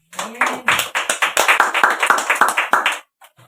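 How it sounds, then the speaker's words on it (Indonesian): Church congregation at a worship service in Rote Ndao clapping for God: a burst of many hands in roughly rhythmic, strong claps that stops abruptly, with a brief voice at the start and a few faint sounds after. "Yang percaya berikan tepuk tangan bagi Tuhan."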